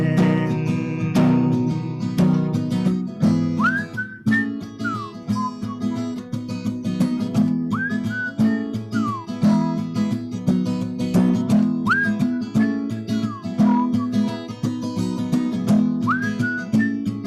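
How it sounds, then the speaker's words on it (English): A person whistles a melodic solo with gliding notes over a steady musical backing, clear and prominent throughout. "A lot of whistling, a lot of whistle solos today."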